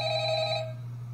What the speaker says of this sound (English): Wait, the phone guy's calling?